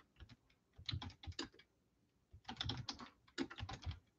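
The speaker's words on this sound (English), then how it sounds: "I'll type in the chat here." Soft typing on a computer keyboard, two short bursts of rapid key clicks separated by a brief pause, close and quiet with no talk.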